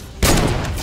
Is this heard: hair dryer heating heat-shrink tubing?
no